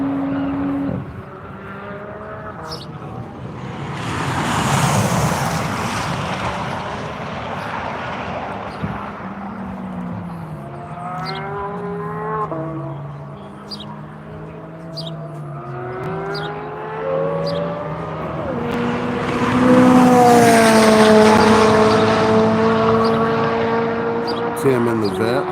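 Corvette race car at Grattan track during One Lap of America, engine note rising and falling as cars zip past, with loud swelling passes near the start and end under ongoing commentary.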